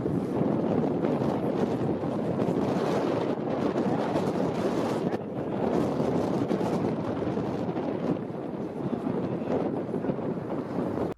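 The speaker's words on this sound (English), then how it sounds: "I'm just going to let you hear the natural sound now so you can hear just how windy it was" Strong wind buffets the microphone aboard a sailing boat during the Three Rivers Race, a loud continuous roar with gusting surges and water noise underneath, no voices.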